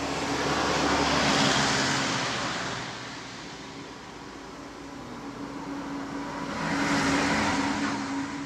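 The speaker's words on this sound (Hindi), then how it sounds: "अब एक और नहीं, दो दो तीन तीन आ रही हैं।" Vehicles on the Pathankot to Mandi highway roar past one after another, a broad rushing swell that builds, fades, then rises again as the next one approaches, loud and close.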